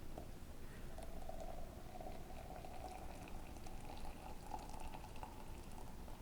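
Water pours in a steady, soft stream over pour-over coffee grounds, a quiet continuous trickle heard up close with no talking.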